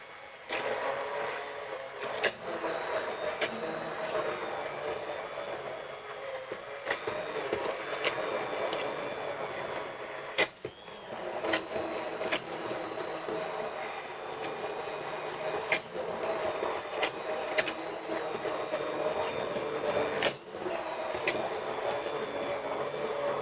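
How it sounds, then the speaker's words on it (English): A blender purees pumpkin soup in a kitchen with a continuous loud motor whir over about twenty seconds, steady with small dips, and no speech over it. "we've started to vitamise up our pumpkin soup"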